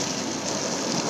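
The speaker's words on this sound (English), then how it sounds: "I see the rain starting to come down, so we may have to move" Rain begins falling on a tropical island as a dense, even hiss of drops, continuous and fairly loud, with no voices over it.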